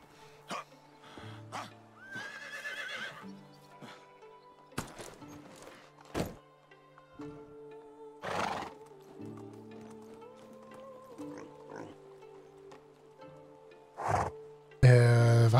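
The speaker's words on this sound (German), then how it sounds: "Ich schnapp mir jetzt meinen Gaul und dann reiten wir nach Ostroja." In the Medieval Dynasty video game, scattered hoof thuds and short clops sound over a quiet ambient bed, with a couple of louder knocks or snorts and a sharp burst at the end.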